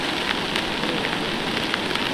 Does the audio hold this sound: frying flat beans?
no